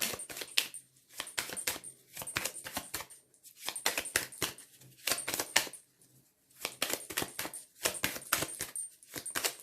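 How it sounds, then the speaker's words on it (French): Cards from the Béline oracle deck are drawn and shuffled in close, fast bursts of crisp riffling and flicking, with short quiet pauses between the bursts. "on va prendre 2-3 petites cartes de l'oracle de Béline"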